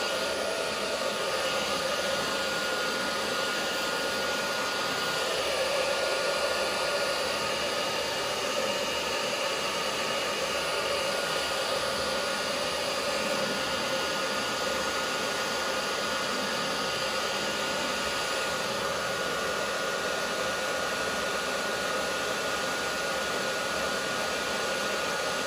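A heat gun blows steadily as vinyl wrap film is warmed on the resin fender of a Nissan Terrano off-roader, producing a continuous close airy hiss and whir that runs unbroken throughout.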